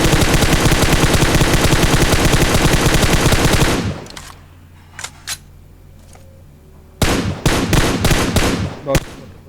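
M4 rifle fire in the mobile battle-royale game PUBG Mobile: a loud sustained automatic burst for several seconds, then a pause with a few faint pops, then further sharp close bursts of shots.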